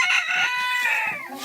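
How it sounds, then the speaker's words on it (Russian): Domestic hens cluck and crow close by, with a rooster-like call, in a calm and affectionate flock, loud and continuous with no talk. "Я просто обожаю этих куриц."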